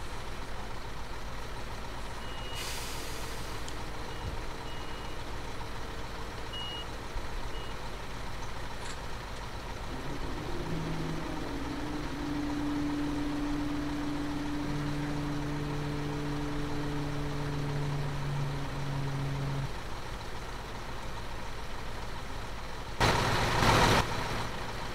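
A truck in the video game Construction Simulator 2015 idles with a steady engine drone. A long run of reversing beeps plays at moderate level, and a brief hiss from an air brake is heard near the end.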